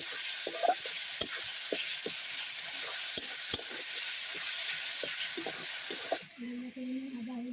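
Chopped tomatoes fry in a pan of browned ginger, garlic and onion, giving a steady close hiss broken by sharp clicks and scrapes of stirring, before the sizzle suddenly quiets near the end.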